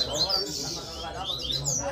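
A caged coleiro (papa-capim) songbird at a singing contest chirps in quick high twittering bursts, repeated several times over steady background noise and faint voices.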